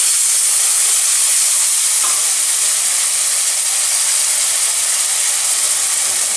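Spice paste sizzles in hot oil in a pan for tel koi, a koi fish curry, giving a steady, loud, close hiss that runs unbroken with no talking.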